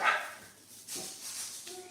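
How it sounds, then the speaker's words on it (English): A dog gives a couple of short barks at moderate distance, one sharp bark at the start and fainter ones after, in an otherwise quiet outdoor setting. "Let me just get the dog in before she drives me mad."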